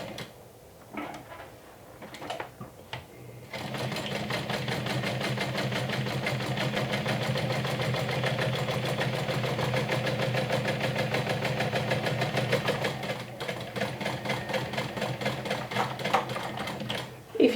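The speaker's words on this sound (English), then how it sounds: "So now I'm stitching this down with 1/8 of an inch seam allowance." Sewing machine stitching a narrow 1/8-inch seam allowance on a bag's white fabric: a steady, continuous mechanical whir with rapid needle chatter runs for about fourteen seconds after a few brief handling clicks, close and fairly loud, with no talking.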